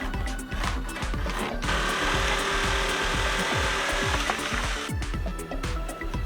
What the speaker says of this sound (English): I drew the perimeter and after that I cut it out.